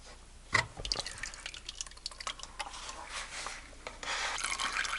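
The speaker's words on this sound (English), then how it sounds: "We'll let that drain out for a minute" Motor oil from a Prius C drains into an oil pan with a soft, close trickle and patter, one sharper splash near the start and a slightly louder flow toward the end, with no talking.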